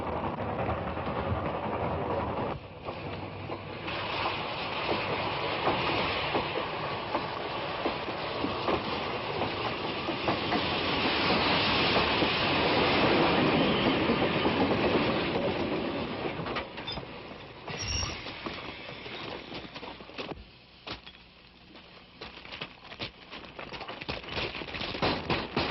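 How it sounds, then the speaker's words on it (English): A train runs along the rails with a continuous loud rumble and rhythmic wheel clatter, swelling in the middle and easing later with a brief sharper squeal, no voices. "Engineer, stop the train!"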